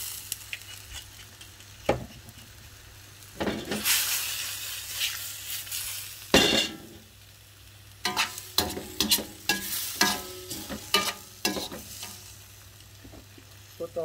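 Chinese wine hits a hot pan of sizzling scallops and ling fish with shiitake, bursting into loud frying hiss that fades and returns, with clattering stirs and scrapes through the second half.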